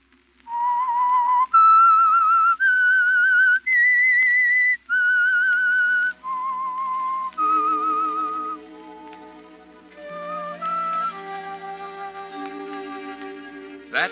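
Someone whistles a slow, eerie melody note by note, the theme of the old-time radio mystery program The Whistler, then a low orchestral accompaniment joins in beneath the clear whistled tune.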